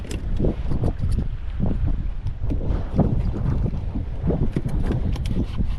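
Speedboat running across open water on an ultralight fishing trip for snapper, its steady engine drone mixed with hull slap and heavy wind buffeting the microphone, continuous and close.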